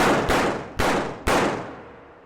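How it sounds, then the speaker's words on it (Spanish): Three loud gunshots in quick succession, each with a booming echo that rings out and slowly fades. "Luis empuña su arma y dispara varios tiros"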